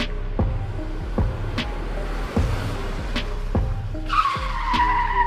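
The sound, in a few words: car pulling up and parking, tires skidding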